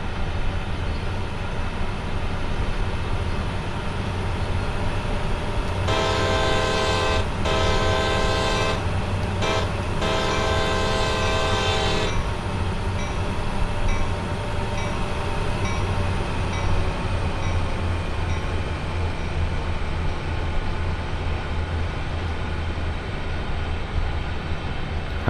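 Freight train horn blasts in Train Sim World 2 on Sand Patch Grade, several long harmonic toots in a broken pattern over a steady low locomotive rumble that carries on alone afterward.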